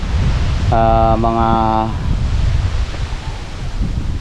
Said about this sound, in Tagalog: kaya maririnig mo lang yan, yung ano ng hangin